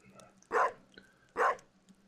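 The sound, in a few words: dog barking in Stardew Valley video game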